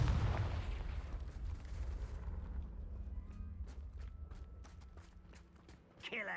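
A Confringo blasting spell goes off in Hogwarts Legacy near a Thestral nest: a loud, broad boom at the start that rolls off into rumble, followed by scattered sharp pops and crackles.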